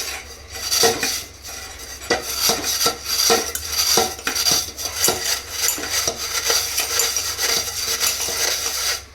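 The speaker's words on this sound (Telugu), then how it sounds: "ఇలా స్టీల్ పీస్తో ఒకసారి రుద్దండి" Steel scrubber rasping hard against a burnt steel pot, a close, loud run of repeated metallic scraping strokes with clinks, no talk.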